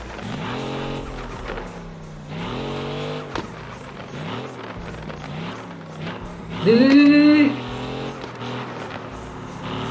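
A Land Rover Defender in the game Car Parking Multiplayer drives with a loud engine rising and falling through repeated revs, then a sharp tire squeal as it skids mid-run, with background noise throughout.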